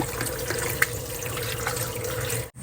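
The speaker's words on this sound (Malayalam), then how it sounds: "ഈ പാവയ്ക്ക ഉണ്ടല്ലോ നല്ല വൃത്തിയായിട്ട് നമുക്കൊന്ന് കഴുകിയെടുക്കാം" Bitter gourd is rinsed and washed under water in a kitchen, with a continuous nearby trickle of running water, small splashes and drips, and one sharp click.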